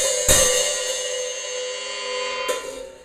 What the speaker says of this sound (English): striking the hi-hat while the pedal is released and the two cymbals are apart.